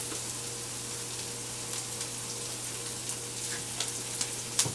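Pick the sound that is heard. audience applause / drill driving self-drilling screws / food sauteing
food sauteing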